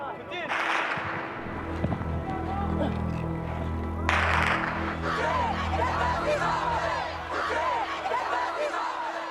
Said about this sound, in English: Listen to these crowds. What are they shouting?